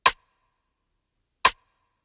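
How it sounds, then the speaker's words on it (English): Two short, crisp rim shot drum-sample clicks spaced about a second and a half apart, each with a brief reverb ringing tail, isolated against silence. "so for the rim I added like a reverb."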